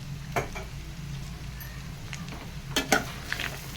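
Chili powder being stirred into food frying in a pan while cooking chicken biryani: soft scraping and spoon clinks over a quiet, steady sizzle, with a few sharper taps.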